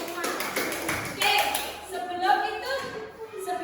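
Children in a classroom clap their hands together in a quick burst of taps while young voices chatter over it, close and lively, lasting only a few seconds.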